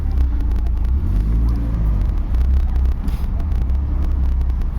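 A 1985 Chrysler LeBaron Turbo Coupe drives slowly across a parking lot, its engine giving a steady, close low rumble that holds throughout with no talk over it.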